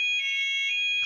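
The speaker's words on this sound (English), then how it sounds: "Is that your alarm?" An alarm sounding in a hair salon, a loud sustained electronic tone with steady pitch that holds for about a second and then cuts off abruptly, close and alone.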